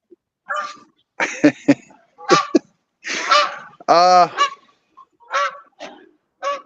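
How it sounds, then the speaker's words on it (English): A goose flying over, honking loudly and nearby in a ragged series of about ten calls with short gaps, one longer nasal honk in the middle, with no speech over it. "Need that goose to stop honking."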